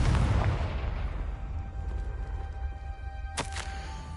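A Confringo spell explosion in Hogwarts Legacy, opening with a heavy low boom that decays into a lingering rumble, followed by a brief sharp crack near the end.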